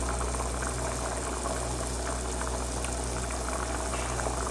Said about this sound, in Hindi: देखिए पानी में उबाल आ गए हैं।